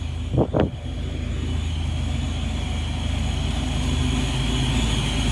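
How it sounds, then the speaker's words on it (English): A boosted car cruises down the road with a steady engine drone and road noise, preceded by a couple of brief louder bursts near the start. "let's go ahead and drive the car down the road"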